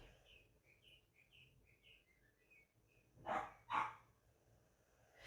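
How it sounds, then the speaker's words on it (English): Two sharp dog barks in quick succession, fairly near, following a series of soft bird chirps in a quiet background. "my dog's barking like crazy"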